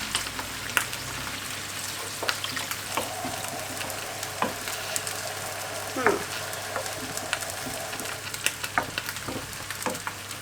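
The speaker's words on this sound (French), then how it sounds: "Alors il faut ajouter de l'eau de façon à tout couvrir." Water poured into a hot cooking pan, giving a steady close sizzle with scattered ticks and pops throughout.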